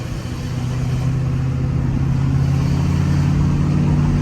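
An LBZ Duramax diesel truck fitted with a new WCFab intake kit idles and rumbles steadily as the throttle is lightly feathered, a continuous low engine drone heard close up with no talking.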